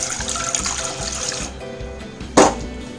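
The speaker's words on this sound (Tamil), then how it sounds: "பால் 1 டம்ளர் அளவு நான் ஊற்றிக்கிறேன்" Milk poured into a pan while making payasam, a continuous liquid splashing and gurgling close by, with a brief louder splash near the end.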